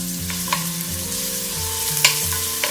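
Crushed ginger and garlic hit hot oil in a pan, giving a continuous sizzle with a few sharp clinks of a spoon, close and clear over soft background music.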